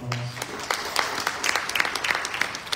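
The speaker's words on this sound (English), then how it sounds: "Give her a round of applause" Scattered applause for a donor at a Ramayan Yagya gathering in Toronto, a cluster of clear individual claps at moderate loudness over a low background murmur of the crowd.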